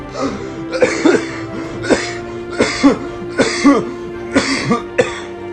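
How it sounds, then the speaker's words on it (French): Repeated harsh coughs, about six bursts spaced roughly a second apart, close and fairly loud over a steady low hum. "Arrête de tousser comme un débile."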